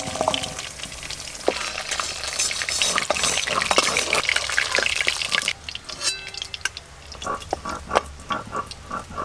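Boiled jackfruit and potato pieces frying in hot oil, a dense steady sizzle with spattering crackles, then quieter bubbling broken by scraping stirs from a spatula.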